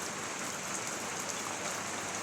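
Heavy rain falling as a steady, even hiss of many drops hitting surfaces, moderately faint and unbroken for the whole short stretch, with no voices or other sounds.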